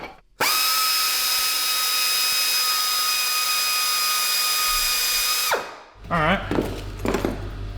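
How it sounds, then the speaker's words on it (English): A power drill whines loudly at a steady pitch for about five seconds while drilling through the metal fins of a 900cc Ducati-engined go-kart, then stops abruptly, followed by rattling and a voice. "I drilled all the way through till I saw the end of the drill bit in the fins"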